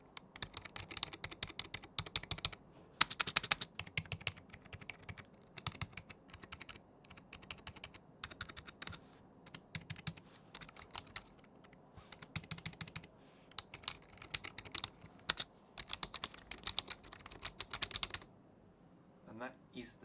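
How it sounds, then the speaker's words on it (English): Rapid typing on a Razer Ornata V3 X keyboard close to the microphone, a steady stream of crisp clicky keystrokes with brief pauses. "So let's do a little sound test now for you guys."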